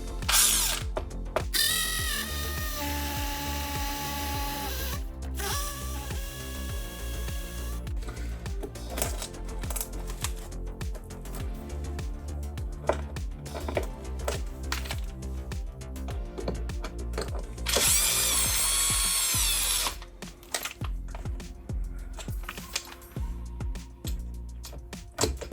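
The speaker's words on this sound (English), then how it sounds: "I'm gonna get the trusty drill" A power drill whirs in repeated bursts close by while drilling into a wall, its motor pitch rising and falling, with clicking ratchet-like mechanical sounds between runs.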